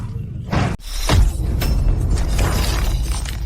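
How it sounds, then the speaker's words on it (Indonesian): A chest bone cracking sound effect in a martial arts fight: a sharp shattering crack with a heavy thud, followed by a sustained rumbling, whooshing wash, all loud and close. "bunyi tulang dada retak"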